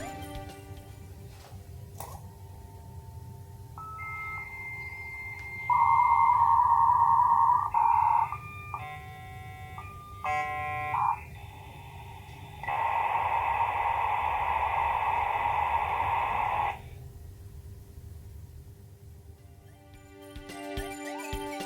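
A USRobotics Sportster 33.6K external dial-up modem, freshly repaired, connects: a dial tone, then clipped beeps and warbling handshake tones, followed by loud bursts of harsh static-like screeching that stop abruptly, over a low background hum.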